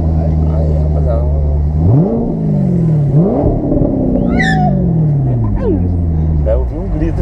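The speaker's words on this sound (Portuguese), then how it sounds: "todo mundo acelerando pra mim aqui, gente" Loud Corvette engines rumble and rev up and down in rising sweeps, close by outside a nightclub, with people shouting and talking over the noise.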